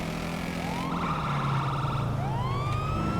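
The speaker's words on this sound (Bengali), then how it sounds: "পুলিশের গাড়ি কত স্পিডে যাইতেছে দেখ" A police car siren in the video game GTA V wails in rising and falling sweeps over a constant engine drone, loud and continuous throughout.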